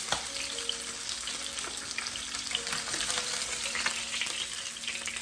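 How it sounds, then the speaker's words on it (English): Jamaican-style fish fries in a pan with a continuous crackling sizzle, close and steady, with no voices. "I'm gonna fry up my fish"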